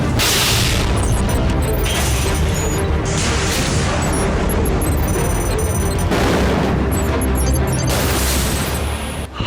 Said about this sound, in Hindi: बॉर्डर उस पार पठार में मिसाइल ब्लास्ट